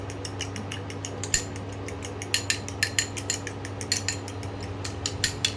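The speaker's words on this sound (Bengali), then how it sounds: "নুন দিয়ে ভালো করে নুনটাকে ডিমের মধ্যে মিশিয়ে নেব।" Eggs and salt are whisked in a bowl, with quick rhythmic metal-on-bowl clicks and taps repeating steadily, close up, over a low steady hum.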